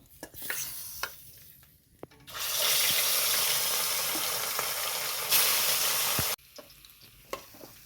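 Pieces of rohu fish fry in white oil, giving a loud, steady sizzle that swells for about four seconds. Quieter spatters and clinks come before and after it.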